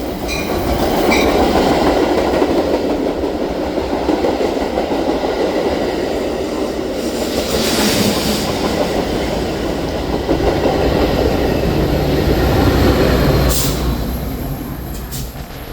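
A Metra BNSF commuter train passes at Berwyn, Illinois, producing a loud, sustained roar of rolling wheels with rhythmic clatter and a brief high squeal near the end.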